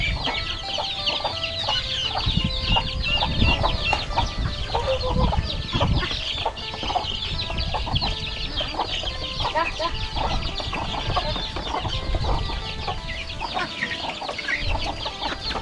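Chickens cluck and call continuously at a rural Thai home, a busy flock heard close and steady throughout with occasional louder squawks.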